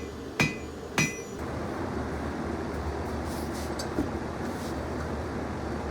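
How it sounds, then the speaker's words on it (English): Two sharp, ringing metallic hammer strikes on wrought iron and 1084 steel being forged into a knife land close together near the start, followed by fainter taps over a constant low background rumble. "we can start hammering them into something that looks more like a knife."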